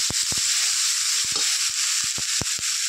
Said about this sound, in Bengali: টমেটো বাটা দিয়ে ভালো করে মশলা কষিয়ে নেব।